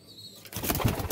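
Pigeons kept in pairs in a loft in Gujranwala give a brief rustle of wings and a soft low coo, close by and short.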